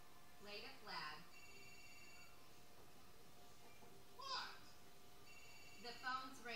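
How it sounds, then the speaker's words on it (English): A phone rings in the video game GTA IV, short bursts of electronic ringing separated by gaps of quiet, faint and in the background of the game. "The phone's ringing."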